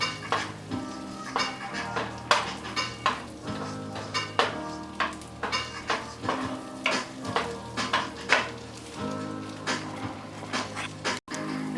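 Potatoes fry over high heat in a pan, with a steady sizzle under repeated rhythmic scraping and stirring clatters of a utensil against the pan.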